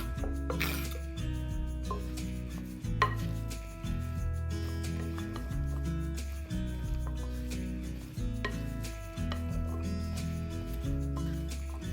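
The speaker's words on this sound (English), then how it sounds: "Sprinkle it on the potatoes and mix well." Seasoned potatoes tossed in a bowl with a utensil, repeated scraping and rubbing strokes with light clinks in a steady rhythm, set over a loud, constant low hum.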